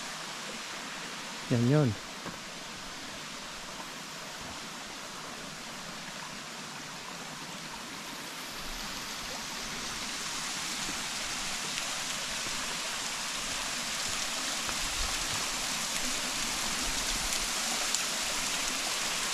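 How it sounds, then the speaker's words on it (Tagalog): A waterfall rushes in a steady, broad wash of falling water that holds and slowly swells over the whole stretch, with a brief voice speaking near the start. "So ito na yung falls."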